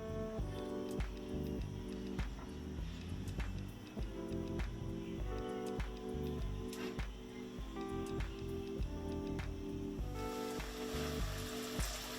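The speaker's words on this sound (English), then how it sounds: "we're going to let this fry until they're golden brown" Buttermilk mustard chicken strips fry in oil with a dense, steady sizzle and crackle, close up and continuous. Scattered pops cut through, and the hiss grows brighter toward the end.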